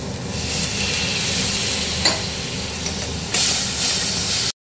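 Water poured onto a sizzling cumin and turmeric spice paste in a pan bursts into a loud steady hiss of steam and frying, with a sharper surge near the end before cutting off abruptly, no voice.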